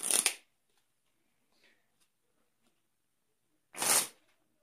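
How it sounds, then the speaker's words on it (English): Two short bursts of a deck of cards being riffle-shuffled, one at the start and one near the end, with near silence between. "So you'll shuffle these up."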